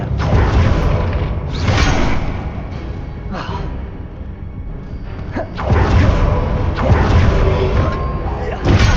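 Incendio fire spell cast in Hogwarts Legacy during a battle against dark wizards: loud whooshing bursts and heavy thuds in two main swells, with combat noise throughout.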